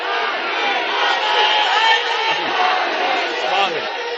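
Crowd at a religious gathering shouting a slogan in unison, a dense, loud roar of many voices sustained throughout with rising swells.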